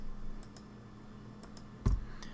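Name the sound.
computer mouse clicking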